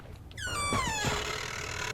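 A door in the horror video game Paranormal creaks open with a long rising-then-falling squeal lasting over a second, close and clear, with a couple of dull thumps as it swings.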